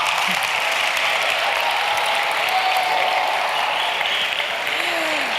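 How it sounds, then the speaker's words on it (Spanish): An audience at a talk with Spanish-speaking presenters claps in a steady, dense wash of applause that runs the whole stretch at even loudness. "Por favor, un aplauso, chicos"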